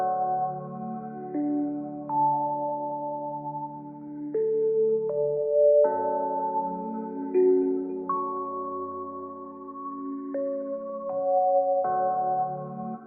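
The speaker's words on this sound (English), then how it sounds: "I can either copy this piano melody directly into one of these 2 sounds" A piano melody copied onto a soft, sustained Omnisphere synth patch in FL Studio, with warm chord tones and a moving top line shifting every second or two, moderately loud and alone.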